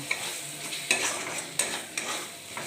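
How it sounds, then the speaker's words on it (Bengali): Spices with Kashmiri chilli powder and garam masala are stir-fried in a pan, a soft sizzle punctuated by several sharp scraping clanks of a spoon against metal at irregular intervals, close and without voices. "এবার আমি ভালো করে মশলাটা কষিয়ে নেব"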